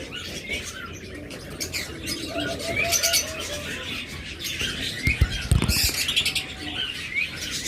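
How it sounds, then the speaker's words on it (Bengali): Pet lovebirds, budgerigars, cockatiels and finches, including high-mutation breeding pairs, chirp and tweet in busy overlapping bursts with occasional fluttering, fairly close throughout. "তো এখানে কিছু হাই মিউটেশনের পাখি রয়েছে।"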